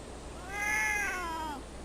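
A single drawn-out cat meow from Guild Wars 2 rises and falls over about a second, clear and fairly close against a steady background hiss.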